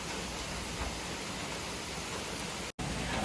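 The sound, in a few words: rainstorm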